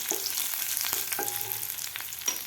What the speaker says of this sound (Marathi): घालायचा आपल्याला कढीपत्ता सुद्धा व्यवस्थित आपल्याला फ्राय करून घ्यायचा आहे